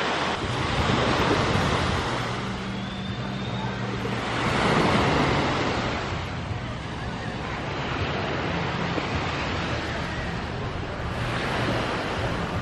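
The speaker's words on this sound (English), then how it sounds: "It is gorgeous down at the beach." Evening surf washes continuously onto a beach, with broad rushing swells rising and falling every few seconds, mixed with wind buffeting the microphone and no talk.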